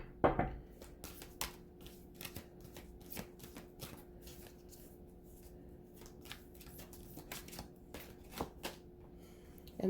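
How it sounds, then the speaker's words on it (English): Tarot cards are shuffled and drawn in a run of soft, close riffling flicks and slaps, fairly quiet with uneven rhythm and no talking. "Let me just pull one more card out."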